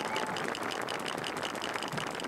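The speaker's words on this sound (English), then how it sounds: "could you give a round of applause for all the elementary directors and all the directors in this district?" Steady, dense applause from an audience at a 1999 North Penn High School community night with the Marching Knights, honoring elementary music directors; continuous clapping at even level throughout.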